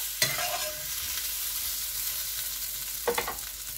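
Vegan gluten-free courgette sausages fry gently in a pan with a soft, steady sizzle, broken by two short scrapes as they are stirred.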